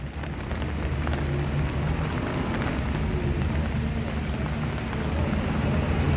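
Steady rain pours over a building construction site behind Savski trg in Belgrade, a constant dense hiss of drops hitting surfaces with a low rumble beneath, continuous and fairly loud with no voices.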